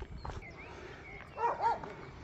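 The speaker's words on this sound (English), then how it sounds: "Oh, you can hear the dogs." Dogs bark in the village of Ein Kerem, a couple of distant, mid-loud barks rising over steady outdoor ambience and footsteps.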